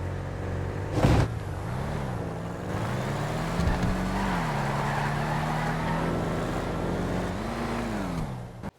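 Saber muscle car in a GTA V street race, its engine droning steadily at high revs with a couple of rising and falling pitch sweeps as it shifts, plus a brief louder burst near the start.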